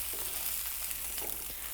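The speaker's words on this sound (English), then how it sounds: "Now I'm going to add the cumin seeds to the remaining oil. Let them sizzle for a few seconds." Cumin seeds and okra sizzle in hot oil for bhindi do pyaza, a soft, continuous frying crackle with faint irregular pops and stirring scrapes, close and quiet, with no voices.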